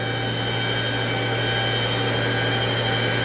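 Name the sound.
Citizen Cincom L-20 Swiss-type CNC lathe sub spindle at 7,000 RPM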